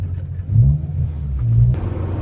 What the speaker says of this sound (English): for a full exhaust setup, this actually isn't that bad in terms of drone